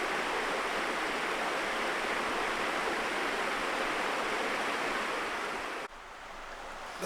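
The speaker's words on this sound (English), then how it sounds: "Creek is flowing." A creek flows steadily on an off-grid homestead, its rushing water a dense, continuous wash that stays loud and close before dropping slightly quieter near the end, with no voices.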